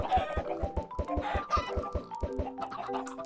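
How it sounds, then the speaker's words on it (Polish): Minecraft chickens clucking in a video game, a rapid run of short, close, evenly spaced clucks and squawks with scattered game effects layered around them, no talking. "Ile tych chickenów tutaj mamy?"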